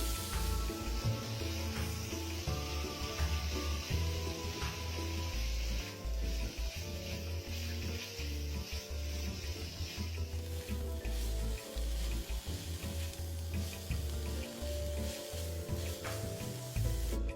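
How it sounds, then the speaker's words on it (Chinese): Shredded pork is stir-fried in a pan with a continuous low sizzle and frequent scraping and tossing from a utensil, busy and steady throughout at a moderate, close level. "将肉丝炒开至颜色变白。"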